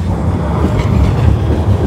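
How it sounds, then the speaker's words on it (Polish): Trams rolling past on a city street, a steady loud low rumble of wheels on rails with faint wind noise, continuous for the whole stretch. "Jak tramwaje przejadą."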